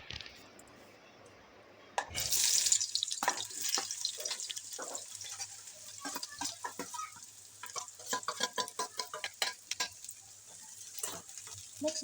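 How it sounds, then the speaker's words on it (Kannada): Chopped onions and red and green chillies are stirred in a pan, sizzling steadily with repeated scraping strokes of a spoon, loud and close after a quieter opening with a faint hum. "ಈರುಳ್ಳಿ, ಮೆಣಸಿನ್ಕಾಯಿ, ಹಸಿಮೆಣಸಿನ್ಕಾಯಿ ಕಟ್ ಮಾಡಿರೋದು ಇವುಗಳನ್ನು ಚೆನ್ನಾಗಿ ಮಿಕ್ಸ್ ಮಾಡ್ಕೊತಾಯಿದ್ದೀನಿ."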